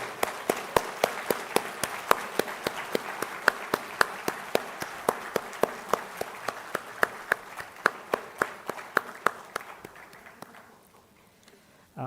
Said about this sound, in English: let's give all the graduates a lively round of applause